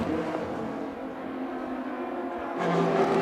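An IndyCar race car at the 102nd Indianapolis 500 slows from racing speed into the pit lane, its engine a steady, close, loud drone that swells near the end. No talk.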